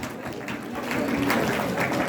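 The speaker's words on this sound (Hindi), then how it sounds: "सबके लिए तालियां बजाएं।" A room full of people applauding, a dense wash of clapping that swells slightly louder partway through, with no clear speech on top.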